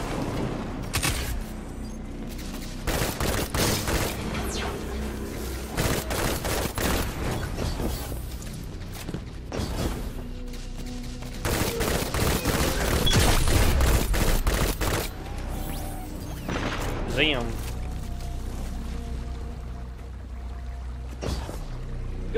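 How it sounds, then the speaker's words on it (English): Rapid submachine-gun bursts in the sci-fi shooter Destiny, loud and nearly continuous, with layered game effects and impacts throughout and a heavier swell of fire toward the middle. "My SMG's gonna tear you up."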